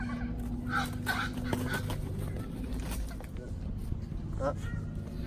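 A five-year-old breeding pair of Egyptian geese gives harsh, honking calls in repeated bursts, heard close over a steady low background rumble.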